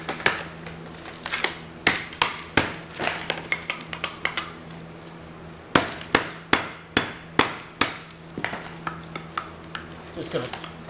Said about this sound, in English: Knock them loose.